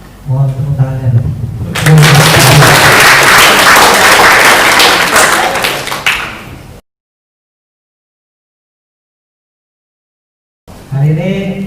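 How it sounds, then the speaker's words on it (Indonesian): Students at a high school assembly for student council candidates at SMK Negeri 1 burst into loud applause for about five seconds, with talking before it. The applause cuts to silence before speech resumes. "Sebelumnya mohon tepuk tangannya dulu."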